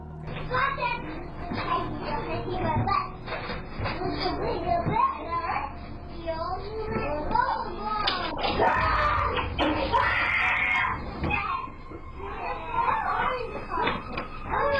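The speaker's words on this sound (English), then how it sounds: "That is the most legitimate scream of fear I have ever heard from a child." A child screams and cries out in distress, loud and close, with shrill bursts rising and falling over several seconds amid other voices.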